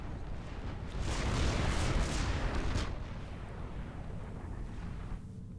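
Four tactical missiles striking in a Supreme Commander 2 real-time strategy battle, a rumbling explosive roar that swells and then slowly fades, moderately loud and a little distant, with no talk over it.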